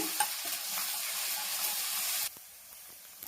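Masala paste for an ivy gourd curry sizzles steadily in a pan with soft stirring, then the hiss suddenly drops to a quieter simmer for the last second.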